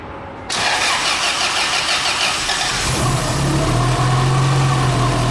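Turbocharged B17 engine in a Honda Integra DA on a dyno: a short cranking burst that catches and fires into a loud, steady idle with a raised drone, close and unbroken, with no talk.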